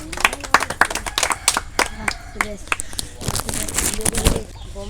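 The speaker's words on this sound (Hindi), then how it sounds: "चलो ताली मारो सब।" A group of people at a Diwali quiz clap in quick, uneven bursts, with voices chattering over and between the claps.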